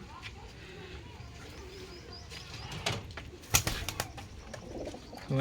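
Pigeons coo softly in a busy loft, with rustling, a few sharp knocks and flutters, and a voice talking now and then.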